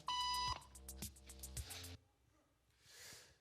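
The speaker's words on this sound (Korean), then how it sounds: "삐 소리가 나면 일어나는 거였어요." Electronic beep signal: a loud, sustained high tone followed by a few shorter pulsing beeps, then quiet with a faint soft whoosh near the end.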